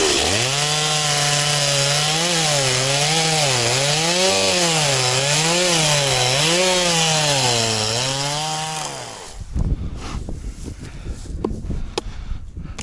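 A chainsaw cuts firewood at a frosty winter night camp, its engine note rising and falling in a regular wavering rhythm for about nine seconds, close and loud, then stopping, followed by quieter clattering and handling noises.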